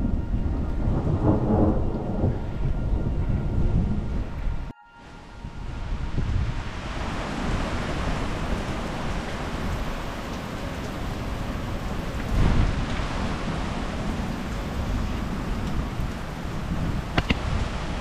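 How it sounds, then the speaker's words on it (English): An incoming spring thunderstorm with steady heavy rain and wind buffeting the microphone, deep rolling thunder rumbling underneath, dense and continuous with a brief dropout partway through, no voices. "it was a very pretty storm coming in"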